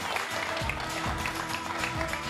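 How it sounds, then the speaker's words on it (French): A studio audience claps on a game show, dense steady applause filling the short stretch close and loud, with a voice faintly underneath. "Ça s'applaudit quand même, mine de rien."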